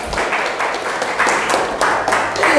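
A classroom group clapping hands together during an angklung music lesson, bursts of fairly close, loud claps in a loose repeating rhythm, with some voices mixed in.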